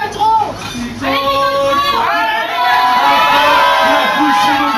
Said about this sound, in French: La foule se mobilise.